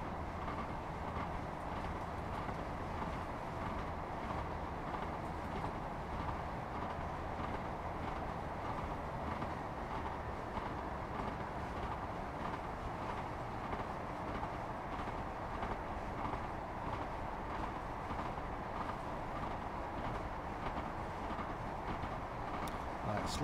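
British Rail Class 158 diesel train running in Train Sim World 3, a steady loud rumble with faint rhythmic clatter throughout, unbroken and close.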